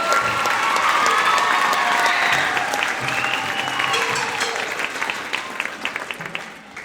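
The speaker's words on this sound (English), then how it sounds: "We give them a round of applause." Audience at a middle school spring music program applauds the student bucket drummers, a dense, steady wash of clapping with some cheering that holds strong, then thins toward the end.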